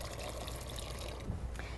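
Soup with herbs poured from a ladle into a pot on an induction cooktop, a soft, brief liquid trickle and splash at close range.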